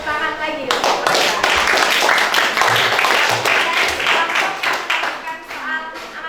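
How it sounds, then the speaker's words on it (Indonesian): A classroom of students claps for a student group after their presentation, a lively burst of many hands clapping close by with some children's voices mixed in, continuing steadily throughout. "Tepuk tangan lagi untuk mereka."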